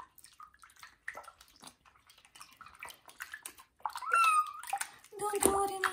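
Water splashing as a kitten is bathed in a tub, intermittent sloshing and drips near the mic, with a sharp meow-like cry rising toward the end while a person speaks softly throughout.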